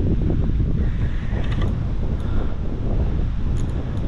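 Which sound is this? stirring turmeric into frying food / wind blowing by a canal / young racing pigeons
wind blowing by a canal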